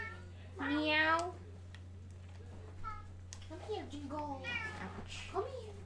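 A pet cat called Jingle lets out a loud meow near the start, followed by a few softer meows mixed with a person talking over a constant low electrical hum.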